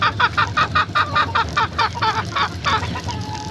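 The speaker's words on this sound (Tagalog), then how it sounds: "Nag-akyata na yung mga manok ko." Backyard pet chickens clucking in a rapid, steady series of short calls, fairly close and loud over low background noise, with no talking.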